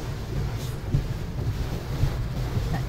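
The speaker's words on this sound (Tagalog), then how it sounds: "Hangin yan." Low, steady rushing of typhoon wind buffeting the microphone, a constant blustery roar with no pauses or voices.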